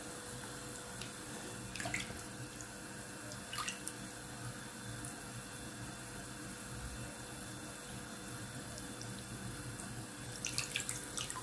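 A kitchen tap runs steadily into a sink of cold water while something is rinsed, a continuous hiss broken by a few brief splashes and clinks.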